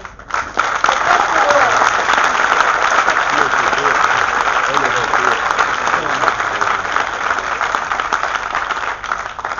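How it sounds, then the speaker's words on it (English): Steady audience applause, loud and sustained throughout, in a hall at a climate campaign event, with some voices and cheering mixed into the clapping crowd. "Our government also deserves a round of applause for the Climate Change Act"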